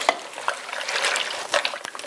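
A spoon stirring an onion and game meat stew in a pot, with a soft continuous sizzle and a few light scrapes and taps against the pot.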